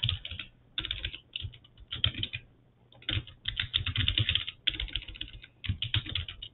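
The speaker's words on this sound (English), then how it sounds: "I'm just going to start by typing in a prompt here for this one." Fast bursts of typing on a computer keyboard, clicky keystrokes in irregular clusters with brief pauses, close and clear, with no one talking.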